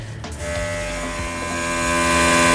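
An air compressor inflates a freshly patched flat tire at home, giving a steady loud motor drone that starts abruptly and keeps running close to the mic without a break.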